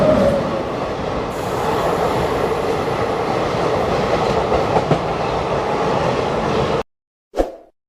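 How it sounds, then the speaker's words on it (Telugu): Two trains rolling into Secunderabad Junction station, a steady loud rumble of wheels and carriages with faint clickety-clack, heard up close for several seconds before cutting off, then a brief thump. "2 ట్రైన్లు ఒకేసారి సికింద్రాబాద్ జంక్షన్ స్టేషన్ లోపలికి అయితే వెళ్తున్నాయి"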